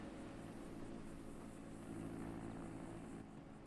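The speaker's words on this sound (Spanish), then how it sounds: "creo que es un helicóptero" A helicopter drones steadily overhead, its rotor thrum and engine noise continuous and moderately distant, swelling slightly partway through, with no voices.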